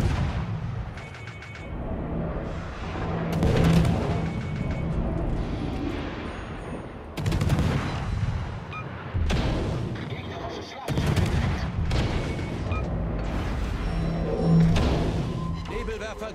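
Naval artillery fire in a video game, heavy booming shots repeating roughly every three to four seconds over a continuous rumbling battle din, with a voice talking over it.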